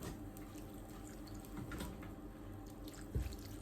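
A little water running from a faucet into a pan of cooking giant spinach leaves, a steady close splashing trickle with a brief louder burst near the end.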